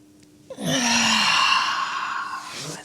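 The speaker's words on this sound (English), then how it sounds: "exhale" One long, audible breathy exhale during a gyrokinesis hip and spine mobility exercise, close and sustained for about two seconds after a brief intake.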